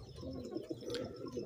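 A female Chapra-cross pigeon coos softly nearby in a short, low, murmuring run of cooing notes, faint and alone.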